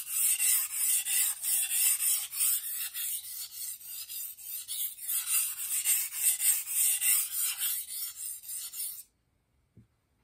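A kitchen knife drawn over a Japanese whetstone in steady, rhythmic strokes, a close gritty rasping that repeats evenly for several seconds and then stops into near silence.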